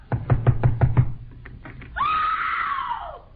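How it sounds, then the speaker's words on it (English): Five quick, firm knocks rap on a house door in a 1946 radio comedy. A sustained, rising wail-like tone follows right after. "Go ahead and knock."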